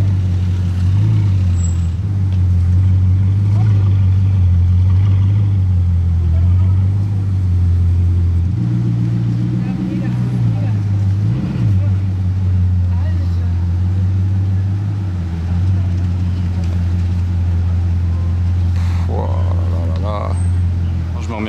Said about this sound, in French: W16 monumental qui ronronne.